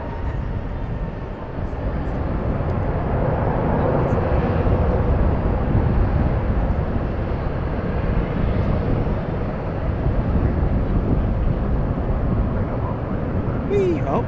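An airliner on flight 2097 from El Paso, Texas, arrives at a busy airport: a broad, steady jet roar swells slightly and holds loud for the whole stretch, with no clear talking.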